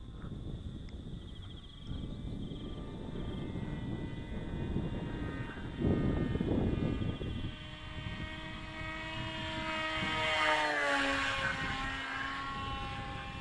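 A scratch-built, stacked-slice RC model airplane on its maiden flight, flying at just under half throttle, gives a steady buzzing drone that swells and sweeps downward in pitch as it passes close by.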